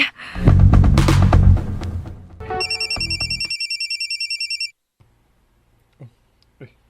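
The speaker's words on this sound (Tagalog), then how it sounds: "Ako cellphone." A cellphone rings with a rapid repeating electronic trill, loud and close, following a burst of louder sound in a dramatic scene, then stops and leaves near silence with a few small clicks.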